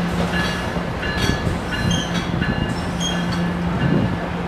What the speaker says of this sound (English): Northeast Corridor line number 3943, arriving at Hamilton,